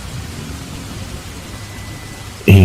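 Heavy rain pours as steady loud hiss and patter for about two and a half seconds, then a sharp loud burst cuts in at the end; no one talks.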